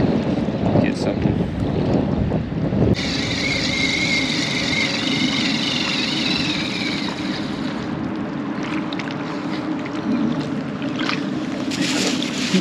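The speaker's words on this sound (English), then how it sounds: "wind ain't too bad either because it's blowing right here" Wind gusting across the shore at Ponce Inlet near Daytona Beach while fishing, a steady close rushing buffet on the microphone throughout, with a faint higher whine over part of it.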